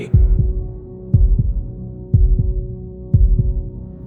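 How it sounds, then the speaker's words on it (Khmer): A heartbeat sound effect thumps in steady, deep double beats, about one pair per second, over a low continuous hum, with no voices. "បេះដូងនោះកំពុងតែលោតញាប់ខកធម្មតាខ្លាំងណាស់ហាក់ដូចជាចង់ផ"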